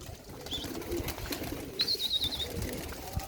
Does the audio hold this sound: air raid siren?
no